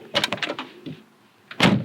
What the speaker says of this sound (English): I'm just going to show you the sound of this door, which I just absolutely love